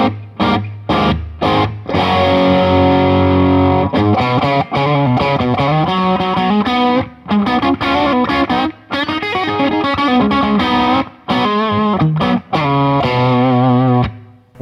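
An electric guitar plays through a Bad Cat Cub 40R tube amp with the gain turned up, giving a dense run of overdriven riffs and chords with brief pauses, loud and saturated throughout.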